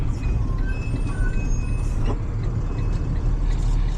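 A truck idles with a loud low engine rumble while high squeals of air brakes come and go close by; no voices are heard.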